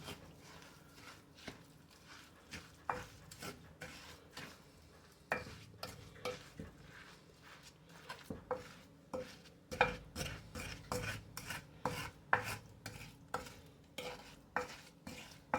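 Meatloaf mixture with egg whites and drained canned tomatoes being stirred in a bowl, a rhythmic series of wet squelches and utensil scrapes, moderately close and growing busier.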